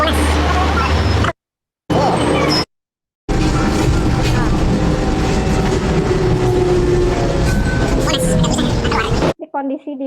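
Inside a moving Jakarta MRT train carriage, a loud, steady rumble of wheels and rail noise runs continuously, broken by a couple of brief dropouts, with voices mixed into the din.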